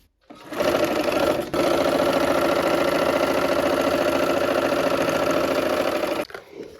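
A sewing machine stitches a pieced quilt strip in a fast, steady, close-up whir, stopping for a split second early on before running on and then halting.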